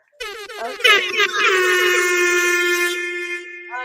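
Repeated loud air horn blasts at an election watch party, sustained and blaring with strong tonal layers, while people talk nearby.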